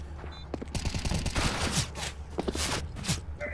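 Gunfire in Counter-Strike: Global Offensive, a rapid exchange of shots between two players, sharp repeated bursts and single cracks close up, with footsteps and faint game sounds between.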